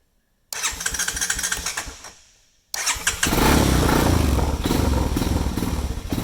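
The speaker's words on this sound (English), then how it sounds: "almost every time that you get a four-wheeler that sounds like this" A Honda 250X Recon four-wheeler that won't idle cranks and sputters with the choke on, briefly dies down, then catches and revs into a loud, rough, uneven idle close by.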